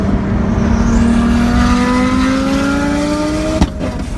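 A turbocharged 1,000-horsepower car engine roars and revs up loudly, its pitch climbing steadily as it accelerates, close and continuous with a brief clunk near the end.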